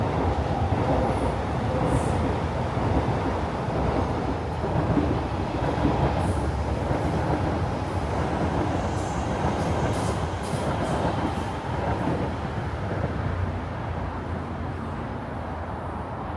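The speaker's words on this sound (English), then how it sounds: "Okay, I got my video of the train." A Singapore MRT train on the line between Yishun and Toa Payoh rumbles past loud and close, with a continuous rolling roar, rail clatter and faint high wheel squeals throughout.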